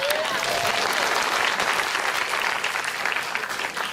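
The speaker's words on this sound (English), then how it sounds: "Round of applause." Audience applause at a pupusa cooking showdown: dense, steady clapping from a crowd that fills the room evenly from start to finish, with no voices over it.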